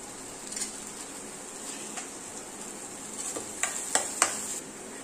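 Chopped capsicum frying in butter in a pan for street-style pav bhaji, a quiet steady sizzle with a few scraping stirs and soft clinks of a spoon against the pan growing sharper toward the end.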